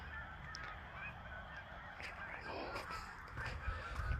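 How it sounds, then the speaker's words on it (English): Geese honk repeatedly while flying overhead during an evening walk on Halloween Eve, their calls faint and distant over steady outdoor background noise, with a brief voice. "I hear a lot of gooses and geeses or whatever flying around, but I can't see them"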